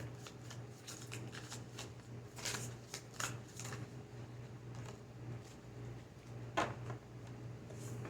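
Tarot cards are shuffled and drawn from the deck in a series of soft, papery riffles and flicks over a constant low hum, with a sharper snap near the end; quiet and close, with no talking.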